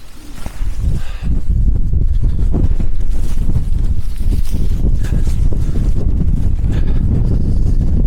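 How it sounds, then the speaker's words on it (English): Strong wind roars steadily against the microphone, a dense, buffeting low rumble that fills the whole clip with no speech. "because of how windy this is and that rain coming"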